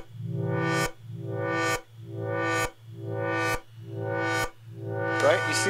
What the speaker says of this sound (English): the reverb is bringing this like richness of tone to the patch